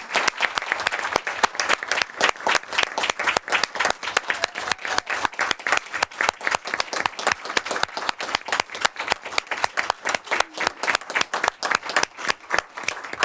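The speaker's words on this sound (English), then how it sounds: "let's give them a really nice round of applause" Attendees at a school board meeting give a long round of applause, fairly evenly paced clapping from a small group that holds steady throughout, with no talking over it.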